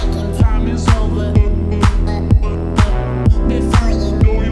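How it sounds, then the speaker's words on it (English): Vocal treated with the Portal effect plugin in an electronic track, a shimmering, smeared voice over a steady pulsing beat and dense synths, loud and atmospheric throughout. "there's this thing called portal, which makes the vocal sound like this"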